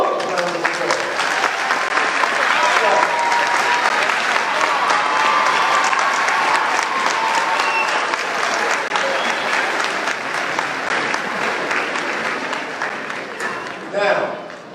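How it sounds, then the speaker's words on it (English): A graduation audience applauds for their loved ones in a large hall, with dense sustained clapping and crowd noise throughout that fades slightly near the end. "Give these loved ones around us a glowing round of applause."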